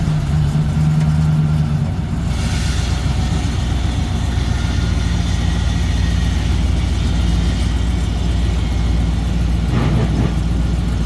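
A 1997 Ford on a test drive, its engine giving a steady low rumble with road noise throughout, loud and close from inside the cab, with a brief swell of revving near the end.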